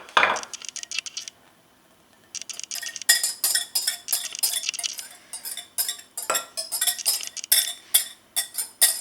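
Wet ingredients being mixed into blueberry muffin batter in a bowl, giving a run of quick, close clinks and scrapes of utensil against bowl with a short pause near the start, no voices.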